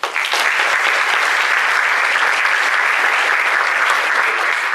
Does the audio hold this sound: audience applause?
yes